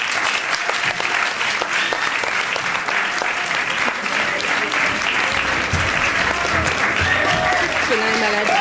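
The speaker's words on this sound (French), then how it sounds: "Je vous demande d'accueillir et d'applaudir bien fort M." Applause from a premiere audience welcoming Arthur Röving carries on loudly for more than eight seconds, with a busy, sustained clatter of many hands. Some voices are also audible.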